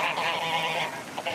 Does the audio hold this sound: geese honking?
yes